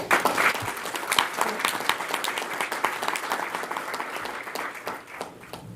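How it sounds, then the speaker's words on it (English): Audience applause greets a speaker at a presentation on cybermedicine: dense, steady clapping from a sizable crowd fills the room, holding strong for several seconds before tapering slightly near the end. "Join me in a welcome of applause for Dr. Warner Slack."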